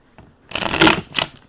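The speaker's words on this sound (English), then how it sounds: "Shuffle it up right quick." Stripper deck of playing cards shuffled quickly by hand, two short close riffles of papery fluttering, loud and alone.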